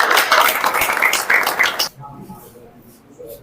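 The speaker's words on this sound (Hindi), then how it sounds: "इनके लिए एक बार जोरदार तालियों से इनका स्वागत किया जाए" Crowd applause welcoming a village leader at a gathering in Sanjarwas, Charkhi Dadri, a dense burst of clapping that stops abruptly partway through, leaving quiet room noise and faint voices.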